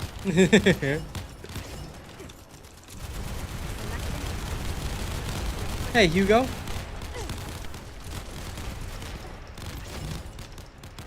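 Explosion effects from The First Descendant shooter game during a team stage clear, a dense continuous roar of blasts and gunfire with brief electronic bursts, while someone talks over it.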